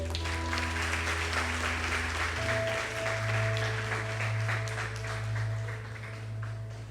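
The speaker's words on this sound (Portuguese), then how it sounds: "vamos aplaudir o Senhor" A congregation at an evangelical church service in Porto Velho applauds the Lord, steady sustained clapping over a sustained keyboard chord, fading slightly toward the end.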